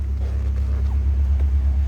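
A 1976 Toyota Celica GT with a 2.2 engine and aftermarket headers idling, giving a steady, deep low rumble that runs evenly throughout at close range.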